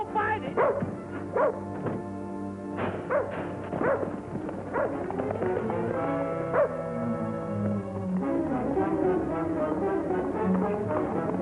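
Bullet the dog barks, yips and growls in repeated short bursts, close and fairly loud, with some voices mixed in among the barking.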